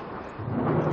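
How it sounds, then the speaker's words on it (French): Thunder from a thunderstorm, used as a theatre sound effect, comes as a brief low rumble that swells slightly, heard alone. "Écoutez, l'orage se calme."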